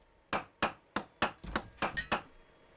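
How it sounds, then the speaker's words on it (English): Sharp, distinct hammer blows ring out at a campsite, about eight strikes in a quick irregular rhythm with a brief pause partway through, close and fairly loud against a quiet background. "Right. Hammer time."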